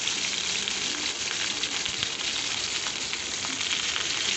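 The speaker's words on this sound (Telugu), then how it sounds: "వంకాయలు కట్ చేసిన వంకాయలు వేసుకున్నామండి. పది పచ్చిమిర్చి వేసుకుందాం." Chopped brinjal and green chillies sizzle and crackle steadily in a hot frying pan, a dense, even hiss that holds close and loud throughout with no voices.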